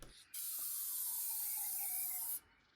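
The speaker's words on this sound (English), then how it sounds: "what you're seeing now is me spraying satin clear coat, not the lacquer toner" A spray gun lays satin clear coat onto an old buffet being restored, giving one continuous, even hiss of about two seconds that starts and stops abruptly in a quiet room.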